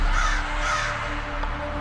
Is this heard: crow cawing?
yes